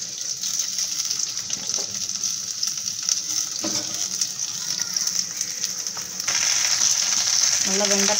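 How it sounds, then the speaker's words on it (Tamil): Okra sautés in a little oil in a pan on the stove, a steady close sizzle that runs throughout and grows a bit louder toward the end. "வெண்டைக்காவை வதக்கிக்கலாம்."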